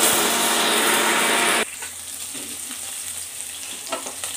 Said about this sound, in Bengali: মাছটা খুব সুন্দর ভাজা হয়েছে এক পিস।